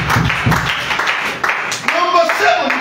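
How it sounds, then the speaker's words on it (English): A church congregation claps for Jesus, scattered rhythmic hand claps mixed with a preacher's voice and murmured responses, close and fairly loud. "Pàtẹ́ wọ́n fún Jésù. Clap Jesus."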